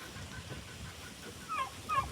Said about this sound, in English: Turkeys are chasing me.